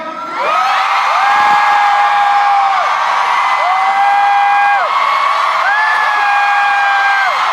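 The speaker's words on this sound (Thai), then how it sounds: "เราช่วยกันส่งเสียงกรี๊ดนะครับ" An audience at a stage show screams and cheers continuously. Shrill, sustained shrieks rise and fall over a loud, steady crowd roar for the whole stretch.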